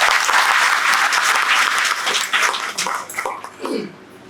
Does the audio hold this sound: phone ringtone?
no